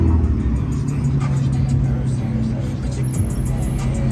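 Aston Martin cars pull away from a casino in Fort Lauderdale with a deep, steady engine rumble close by, mixed with faint background voices.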